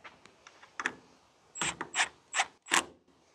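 Roof rack on a Ford Festiva being tightened down: a few soft clicks, then four loud, evenly spaced ratcheting bursts close by, with no talk.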